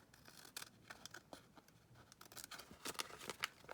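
Scissors trim thin magazine pages for a journal pouch, giving a string of quiet, crisp snips and paper rustles that grow busier and slightly louder toward the end, with no talking.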